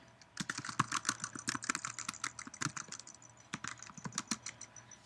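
Rapid, uneven keystrokes on a Mac keyboard clatter close by, running steadily in irregular bursts of clicks with a faint low hum underneath and no talking.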